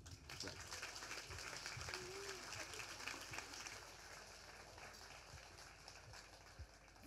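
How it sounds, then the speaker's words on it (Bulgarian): Audience applause welcoming a guest lecturer at an energy-themed talk event, a sustained wash of clapping from a crowd in a hall, moderately distant and fairly soft, easing slightly toward the end with a faint voice or two underneath. "Мисля, че вече сме готови да посрещнем с аплодисменти доктор Маги Лю."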